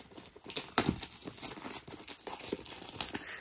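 Sealed VHS or DVD tape packaging being torn open by hand: close crinkly plastic wrap crackling and tearing in irregular bursts, with no talking.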